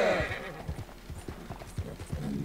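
Horse hooves clip-clop in a steady trotting rhythm as a rider travels through a Wild West video game, with a whinny at the start and muffled voices faintly underneath.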